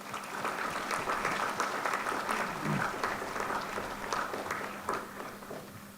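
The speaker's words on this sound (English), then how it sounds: "Let's give them another round of applause." Audience applause fills a high school commencement ceremony, a steady dense patter of clapping that holds throughout with a brief faint voice underneath near the middle.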